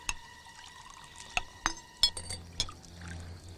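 Cold water being poured, heard as a quiet trickle broken by a few sharp glassy clinks and splashes, spaced irregularly and fairly close.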